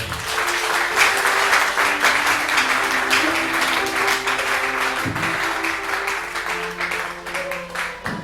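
Congregation applauding the Lord at a church service in Pointe-Noir, Congo, long sustained clapping from many hands with a sustained musical tone and voices underneath.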